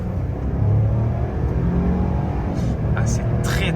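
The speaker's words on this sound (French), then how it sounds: "On entend le turbo aussi." Ford F150 XLT pickup in four-wheel drive accelerating hard, with a loud, steady engine roar that climbs in pitch and a turbo whoosh rising near the end, heard from inside the cab under talking.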